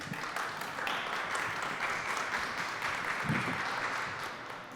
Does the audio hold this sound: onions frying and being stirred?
no